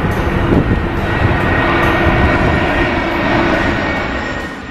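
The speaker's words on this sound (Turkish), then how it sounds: "Özellikle iniş ve kalkışta yani yere yakın oldukları sırada bu yüksek sese birçoğumuz şahit oluruz." A passenger airplane's engines roar loudly and continuously near an airport, a broad sustained rumble that swells and slowly fades slightly as the aircraft passes low during takeoff or landing.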